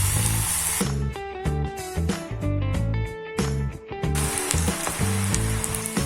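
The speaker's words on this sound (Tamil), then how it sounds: "இப்போ ஒரு பேன்ல நம்ம முட்டைக்கோஸை வந்து ஃப்ரை பண்ணி எடுக்கிற அளவுக்கு ஆயில் ஆட் பண்ணிட்டு ஃப்ரை பண்ணி எடுத்துக்கலாம்" Battered cabbage deep-frying in oil in a pan makes a steady bubbling hiss, partly covered by background music whose tones rise over it for most of the stretch.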